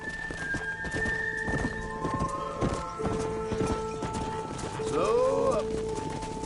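Horse hooves clip-clopping in Red Dead Redemption, a steady rhythmic trot close by, with shouted voices and a whinny over the hoofbeats and tonal game sounds in the background.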